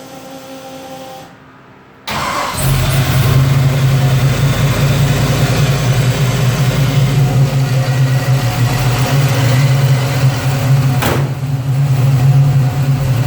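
A 1972 Chevrolet Nova engine cranks briefly, catches and settles into a loud, steady, low-pitched idle that runs close for about ten seconds, with no talk.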